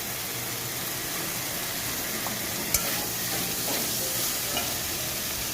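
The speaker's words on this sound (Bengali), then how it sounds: "এটাকে ভালো করে কষিয়ে নেবো আলুটাকে" Boiled potatoes are sautéed and stirred in a pan, giving a steady, close sizzle and frying hiss with a few faint scrapes and clicks of a utensil.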